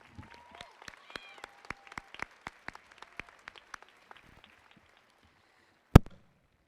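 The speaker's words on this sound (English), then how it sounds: "Let's give them a big round of applause" A few separate claps at a high school graduation ceremony, sharp and spaced out and slowing to a stop, followed by one loud bang near the end.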